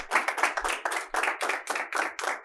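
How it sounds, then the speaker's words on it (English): A small audience claps for Riko Harris after a business class talk, a close, dense burst of many hands clapping in uneven clusters for a couple of seconds. "Let's give Riko another round of applause."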